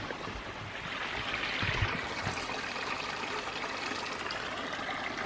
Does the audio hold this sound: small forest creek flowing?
yes